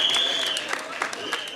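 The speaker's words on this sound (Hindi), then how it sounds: "डायरेक्टर साहब के लिए बजा दो ये, मिस्टर लव रंजन।" Audience applause for the director at a trailer launch event, a dense patter of clapping from a crowd that slowly thins, with some voices mixed in.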